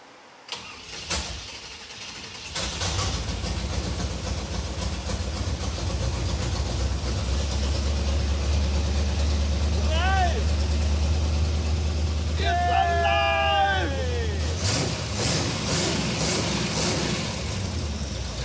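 A retired dirt-track race car engine cranks and fires after a loose fuel line is fixed, settling into a steady rumbling idle with a few revs before cutting off, while people talk nearby.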